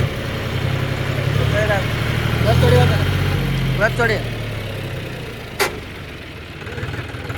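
A John Deere tractor engine runs with a low, steady rumble under loud nearby talk in Kannada, swelling slightly in the middle.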